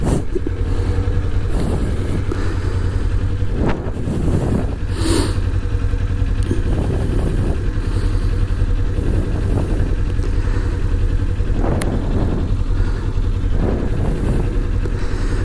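A motorcycle out on a morning road ride, its engine droning steadily and loudly close by with a few surges and rumbles, under constant wind noise and without voices.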